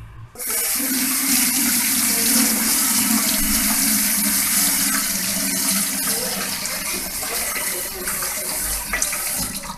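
Tap water runs steadily and loudly into a sink while a frying pan is washed, a continuous close splashing rush with faint scrubbing and knocking mixed in, with no talk.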